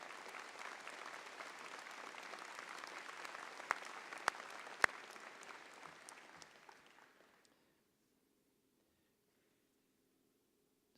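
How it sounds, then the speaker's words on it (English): An audience claps steadily at a university undergraduate commencement ceremony, a broad wash of applause with a few sharp nearby claps, then it fades out and leaves near silence. "Please stand and be recognized and take some applause for Darlene."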